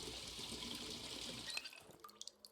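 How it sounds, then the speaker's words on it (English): Water running and splashing steadily into a bottle while it is filled in the survival game Project Zomboid, a continuous liquid rush that breaks off into a few scattered drips and clinks near the end. "Fill up our other water bottle."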